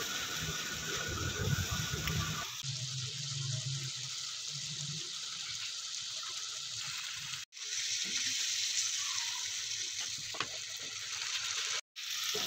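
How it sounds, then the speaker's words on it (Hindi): Masala and tomato puree stirred in a pan for kofta curry, giving a steady wet scraping and sizzling hiss that runs continuously for several seconds, with a couple of brief breaks. "अब हम लोग इसको मिक्स करेंगे।"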